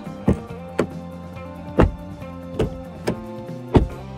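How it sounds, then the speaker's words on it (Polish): Doors of a 2025 Volkswagen Tayron R-Line SUV with a 2.0 TDI engine shut six times in a row, each a close, solid, damped thunk with a brief low thud, spaced under a second apart. "najlepsze słowo, którym możemy opisać odgłos zamykanych drzwi"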